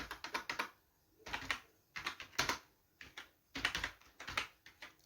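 Fingers type C++ code on a computer keyboard in quick bursts of close clicking keystrokes, separated by short pauses, with no voice over them.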